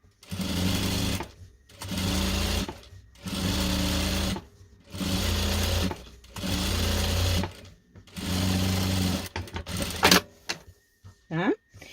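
A sewing machine topstitching a fabric bag runs in six steady bursts of about a second each, separated by short pauses, loud and close, followed by a few handling clicks and a voice speaking.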